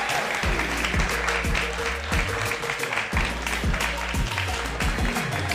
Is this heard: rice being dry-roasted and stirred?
no